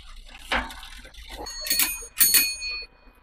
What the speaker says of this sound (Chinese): 这个铃铛的声音非常清脆